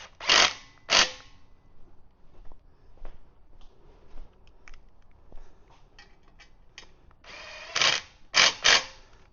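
Mudguard bolts being tightened on an electric tricycle, with a few separate loud ratcheting bursts at the start and end and faint small clicks of tools and metal parts between them, close by with no talk.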